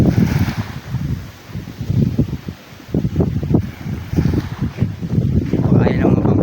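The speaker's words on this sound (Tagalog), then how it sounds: "Malakas na lang mga alon" Strong waves crash and roll at Pamana Beach under gusty wind buffeting the microphone during a monsoon swell, a loud, surging wash with boats nearby.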